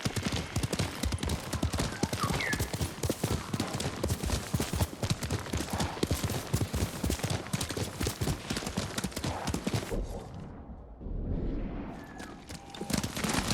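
A horse gallops in Ghost of Tsushima, its hooves drumming a fast, steady clip-clop rhythm up close. The pounding breaks off briefly and then resumes.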